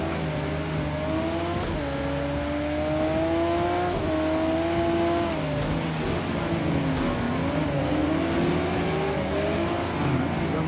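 A Ferrari Enzo engine in a racing video game roars loud and continuous, its pitch climbing and dipping through gear changes as the car accelerates, with no voices.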